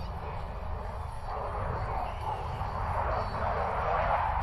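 A Eurofighter Typhoon jet flies a display demonstration, producing a broad, rumbling roar that swells gradually and stays steady throughout, with no voices heard.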